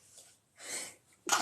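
A single sneeze: a brief breathy intake, then a sharp, loud burst at the end, close and alone.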